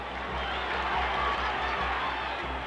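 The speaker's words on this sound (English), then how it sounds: "Every pitch bringing a roar from the Shea Stadium crowd" A Shea Stadium crowd of Mets fans roars steadily through a tense baseball game, a dense, sustained wash of voices and cheering with a low rumble underneath, loud and unbroken.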